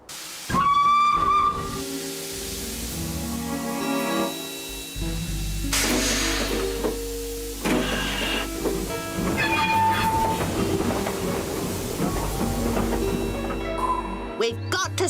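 Cartoon steam train sound effects with hissing steam, a whistle and rolling rail clatter, loud and continuous across the scene, with brief character voices mixed in among the effects.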